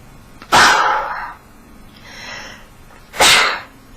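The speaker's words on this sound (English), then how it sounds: "Excuse me, I'm just going to sneeze." A person sneezes twice, each a sharp explosive burst with a breathy tail, separated by a quiet inhale, close and without any talking.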